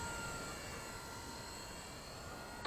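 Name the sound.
WLtoys V950 RC helicopter flying in idle-up mode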